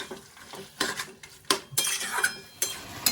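Taro leaves being stirred and mixed in a pan, a utensil scraping and clanking against the metal in several distinct strokes, with a light sizzle underneath, close and alone.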